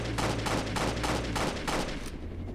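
Rapid gunfire in the Roblox game Jailbreak, aimed at a fleeing car's tires: a close, loud run of about seven sharp shots in quick succession over a steady low engine drone, with no talking.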